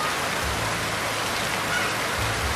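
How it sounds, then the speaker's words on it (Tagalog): Heavy rain pours down on a hot afternoon turned stormy, a dense unbroken hiss of drops drumming on surfaces, loud and steady with no voices. "Lakas kasi ng ulan eh."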